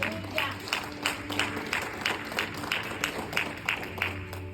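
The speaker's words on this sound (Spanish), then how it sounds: "Dele ese aplauso fuerte al Señor." Church congregation clapping for the Lord in rhythmic unison, regular beats about four per second, with sustained keyboard tones and some voices mixed underneath.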